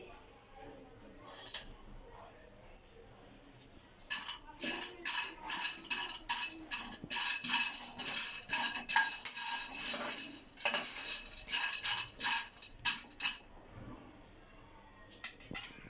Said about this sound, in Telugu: పల్లీలను వేయించుకుంటున్నానండి.